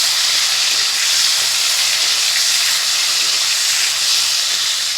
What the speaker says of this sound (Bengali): এবারে মাছ ভাজা করব।